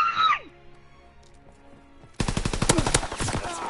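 Rapid machine-gun fire in a World War II video game bursts in loud and close and rattles without a break for over a second, after a quieter stretch with game sounds.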